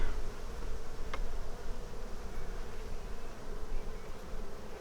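Steady, dense buzzing of many honey bees in an open hive close by, a continuous low drone with no talking.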